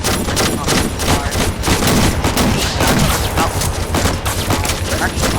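A voice imitates machine gun fire during a plastic army men battle game, a loud continuous rattling burst of spitting, crackling bursts that barely pauses across the whole stretch.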